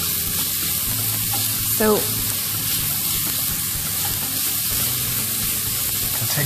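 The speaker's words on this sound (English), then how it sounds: "Just need to simmer or saute this for maybe a minute or two." Onions sauté in a hot pan with chorizo and paprika, giving a steady close sizzle and crackle with a brief stirring scrape, while a voice speaks a single word.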